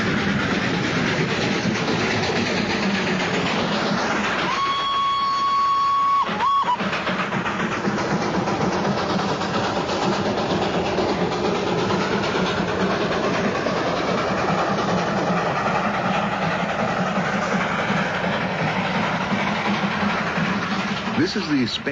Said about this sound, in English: the famous Darjeeling Himalayan Railway